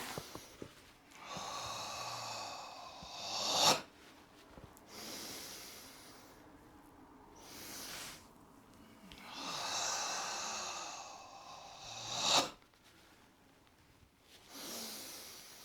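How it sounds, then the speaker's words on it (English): Goju-Ryu karate ibuki breathing: long, forceful, hissing exhalations from the diaphragm, two big strained breaths ending in sharp bursts, each followed by quieter inhaling, with no talking. "the main purpose of this ibuki breathing technique is to get you breathing diaphragmatically"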